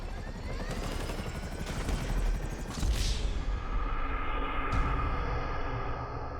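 A helicopter in the GTA 5 video game whirs steadily and loudly for the whole stretch, with dense game noise and a few sharp bursts layered over the rotor drone.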